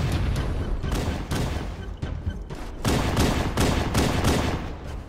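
Rapid bursts of gunfire and explosions from a Halo firefight on Legendary difficulty, with the Flood fighting nearby, dense and loud throughout with short gaps between volleys.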